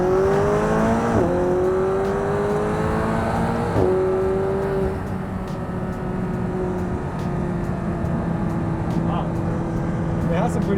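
A McLaren 570S sports car engine revs and accelerates, its rising and falling tones sweeping upward through gear changes, loud and close inside the cabin with a steady drone between pulls.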